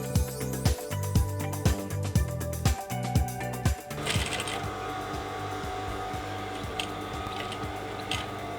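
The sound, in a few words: stitching the sides of a Yoruba cap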